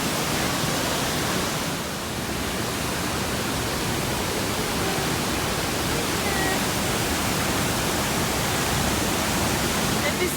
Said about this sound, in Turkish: Ve Kulavuç Şelalesi'ne geldik.